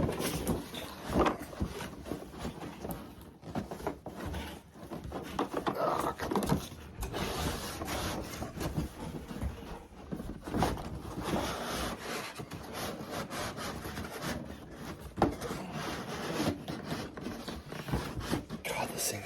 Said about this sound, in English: I got my trusty Kershaw. Go ahead and cut it open.